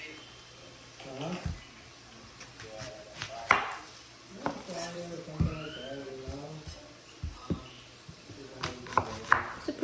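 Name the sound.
knife chopping an onion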